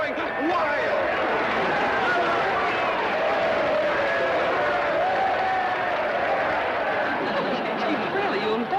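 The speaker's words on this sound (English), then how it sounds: "This crowd is going wild." A crowd at a tag-team wrestling match roars and applauds in a steady, loud, unbroken wall of cheering and clapping, with voices talking over it.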